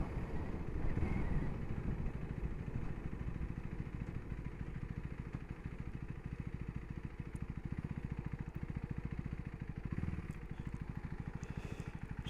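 A 2024 Husqvarna Svartpilen 401 single-cylinder motorcycle ticks over at idle, a steady, even low rumble with a fast pulsing beat that runs throughout at close range and moderate loudness.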